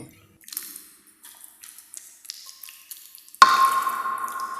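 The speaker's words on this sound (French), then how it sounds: "donc on vient verser ça dans le plat gratin" Tartiflette mixture tipped from a pan into a gratin dish: soft wet squelches and scrapes that give way to a sudden louder rush and clatter as the mixture lands in the dish, close by.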